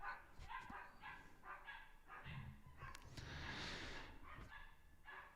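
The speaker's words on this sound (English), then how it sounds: "I don't know if you can hear those dogs" Several dogs bark repeatedly in the distance, a string of faint, overlapping woofs and yips heard from outdoors with no talking over them.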